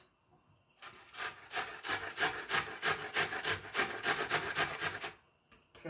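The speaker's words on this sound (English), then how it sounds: "Just grate your onion." Onion grated by hand on a kitchen grater for a homemade cough remedy, a steady run of close rhythmic rasping strokes lasting about four seconds and then stopping.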